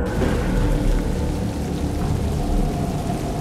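Steady, loud rain hisses and patters continuously with no pauses, like a heavy downpour on a hard surface.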